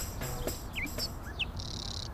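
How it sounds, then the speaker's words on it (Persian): A bird, given as a nightingale, sings short rising whistles and a sustained high note over a soft insect-like hum, faint and somewhat distant in a quiet outdoor setting. "چه آرامشی وای صدای پرنده ها رو"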